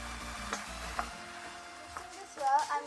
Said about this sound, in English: I'm going to mix this well